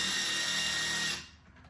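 A close power tool fitted with a Torx bit whirs steadily for about a second while loosening a sway bar link on a Jeep Renegade, then cuts off into quiet.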